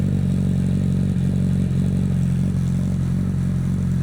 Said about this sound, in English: You can finally hear the motorcycle.